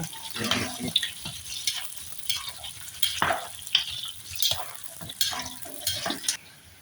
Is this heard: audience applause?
no